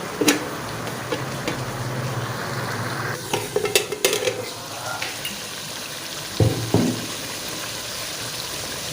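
Mutton frying and sizzling in a pot for a spicy mutton shorba, with a steady close sizzle, a few stirring scrapes and clinks of a utensil against the pot.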